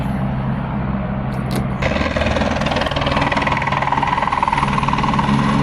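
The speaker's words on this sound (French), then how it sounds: "il y a un hélico qui vient d'atterrir à côté de nous. Le boucan que ça fait." A firefighters' helicopter lands close by, its engine roar rising into a loud, steady rhythmic thudding of rotor blades that continues without any voices.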